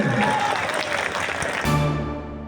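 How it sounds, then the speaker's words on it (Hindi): Audience applause greeting a Rajya Sabha MP as he arrives on stage at a political gathering, dense clapping filling the room for a couple of seconds, then a lower hum and a tone taking over near the end. "एक बार जोरदार ताली मार के इनका फिर से स्वागत करें"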